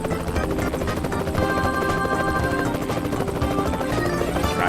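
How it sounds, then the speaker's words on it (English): Rhythmic chopping of a helicopter's rotor blades in American Truck Simulator, steady and fairly close, mixed with background game noise and no talking. "And there's a freaking helicopter and 2 ambulances."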